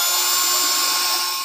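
A power drill bores shelf pin holes in wood, a loud steady high-pitched whine held for the whole moment.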